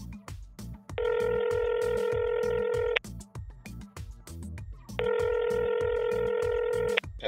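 An incoming call on a telephone rings in two long electronic bursts, each about two seconds, with a pause between them, heard clearly over a busy, rhythmic background.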